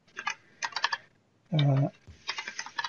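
Keys tap in short bursts on a computer keyboard while a document is typed in Microsoft Word, close and clear, with a brief electronic tone between the flurries.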